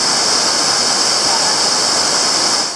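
A river at Roberto Barrios in Chiapas pours down as a natural outdoor shower, a loud, steady roar of rushing water that fills the whole stretch close by, with no break and no voices.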